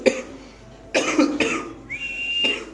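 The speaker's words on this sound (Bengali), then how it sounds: "শুকনা কাশি চলে আসছে" A person at a pigeon farm gives a few dry coughs, close and sharp, in short separated bursts with quiet gaps between them.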